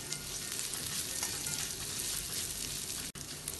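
Peanuts and potatoes for kanda poha crackle and sizzle in a hot pan in a continuous, close frying hiss, with a brief dropout near the end.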